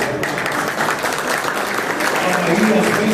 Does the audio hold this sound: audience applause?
yes